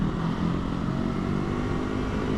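Kawasaki Ninja 250R with a carbureted engine running steadily and close by, a continuous buzzing motor note with a slight rise and fall in revs and no speech.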